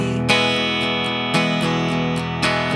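Electric guitar strums the chorus chords of a song, sustained and full, with three sharp strummed accents spaced about a second apart and no voice over it.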